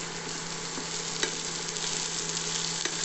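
Ginger is stirred into food frying in a pan for a curry, with a steady loud sizzle throughout and occasional scrapes of the spoon.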